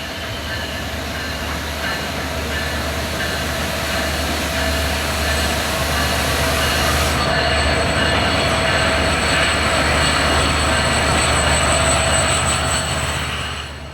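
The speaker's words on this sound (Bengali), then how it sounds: "এটা সম্ভবত তিতুমির এক্সপ্রেস।" A train rolls through Chilahati railway station, heard from an overbridge above: a steady, loud rumble of wheels and carriages with faint squealing, holding level throughout with no talk.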